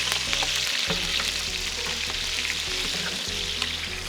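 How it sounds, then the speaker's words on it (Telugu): Chopped onions sizzle steadily in hot oil with whole garam masala spices for a Mughlai mutton curry, a loud, continuous close-up frying hiss that runs on its own with no talk. "ఉల్లిగడ్డ వేగుతున్నప్పుడే దీంట్లోనే మనం పచ్చిమిర్చి కూడా యాడ్ చేద్దాం"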